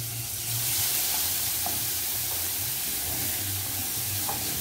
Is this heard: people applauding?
no